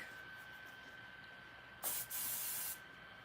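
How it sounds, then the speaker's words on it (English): Hair spray hisses from a can onto curly hair being styled, one short burst followed by a longer spray of about a second, loud and close over a quiet room. "So we just spray it"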